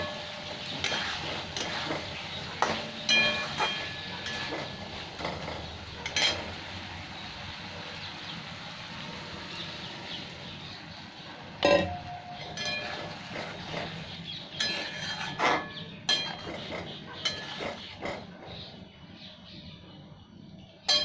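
Pointed gourd (potol) being stirred in spiced oil in a pan, with scattered scrapes and clinks of the utensil against the pan, some of them sharp, over a steady low sizzle and background hum.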